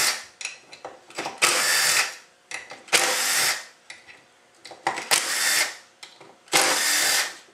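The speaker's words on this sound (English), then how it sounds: "We want to remove all of these bolts and inspect our pump gears." A power tool backs Torx bolts out of a 45RFE transmission pump: five or six loud whirring bursts about a second long, separated by brief quiet pauses with small clicks of the tool and parts, close up.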